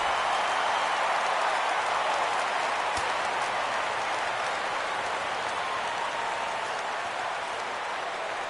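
A stadium crowd in the baseball video game MLB The Show 17 roars as it rises for a full count, a steady, dense wall of cheering that holds at even loudness for several seconds.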